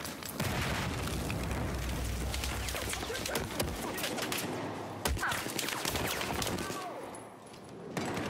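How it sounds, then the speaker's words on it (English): Grenade blast and gunfire in Battlefield 4 multiplayer combat, a dense, loud roar of explosions and rapid shots with a sharp burst near the five-second mark, continuous battle noise throughout. "Grenade out!"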